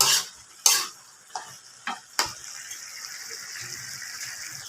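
Sautéed sayote and carrots bubbling in a pan, a few clattering stirs at the start followed by a steady, soft simmering hiss, with a voice speaking over it.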